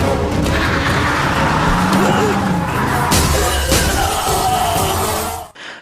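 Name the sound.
car driving and crashing in Indian action film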